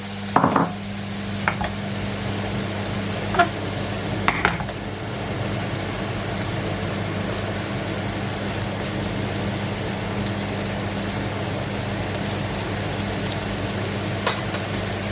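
Apple pieces fry in melted butter in a pan, a steady low sizzle broken by a few scraping stirs near the start and one more toward the end.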